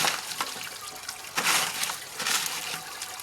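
Water pours and splashes over quartz rocks being washed clean while prospecting for gold, a close, steady rushing with a few louder surges.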